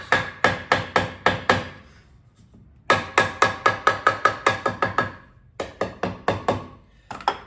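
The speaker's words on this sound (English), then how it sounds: "get my curve back on it with a few taps" Hammer tapping an exhaust pipe back into shape, steady runs of sharp metallic knocks in quick rhythm, close and loud, with short pauses between groups.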